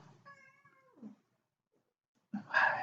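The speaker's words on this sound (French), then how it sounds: "mon petit chat qui se fait entendre, peut-être que vous l'entendez" A cat gives one clear, drawn-out meow close by, then a short pause before a second, louder meow starts.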